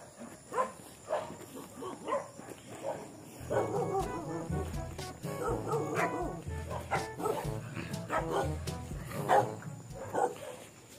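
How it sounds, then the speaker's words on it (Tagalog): An angry dog barking in bursts during a morning walk on a roadside, several sharp barks and yips close by, with people talking in between. "Galit ang aso."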